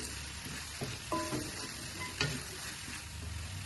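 Cucumber pieces tossed with salt being stirred in a pan, a soft continuous sizzle broken by a few scraping clicks from the spatula, close and fairly quiet.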